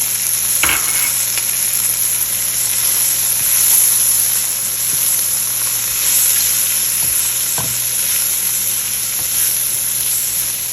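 Boiled peas and carrots being stirred into fried rice in a hot pan, giving a steady, close sizzle across the whole stretch, with a couple of sharp spatula scrapes standing out from the frying hiss.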